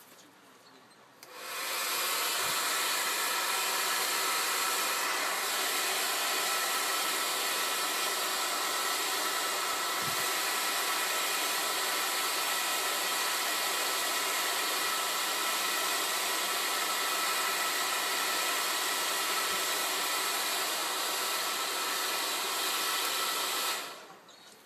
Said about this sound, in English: I'm just using a regular hair dryer, no heat gun needed.